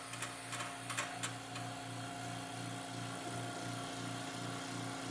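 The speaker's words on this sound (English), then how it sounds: "Now we vacuum the investment before pouring it so that we get as many of the air bubbles out as possible." Investment vacuum machine degassing lost wax casting investment, a steady motor drone with a rhythmic pulsing throb, plus a few sharp clicks and rattles early on, close and moderately loud.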